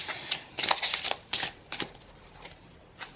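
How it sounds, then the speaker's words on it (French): Tarot cards being shuffled and drawn, a run of crisp papery riffles and flicks in short bursts with brief pauses between them, close and alone with no talking. "on va prendre une petite carte en plus d'énergie"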